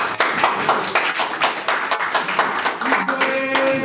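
Audience members at a press event clap in a brisk, loud, rhythmic burst, and a voice starts to come in near the end.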